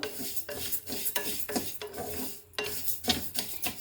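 Moong dal being dry-roasted and stirred in a pan for Katte Pongali, with close, rhythmic scraping and rasping strokes of a spoon against the pan at roughly half-second intervals, and no talk.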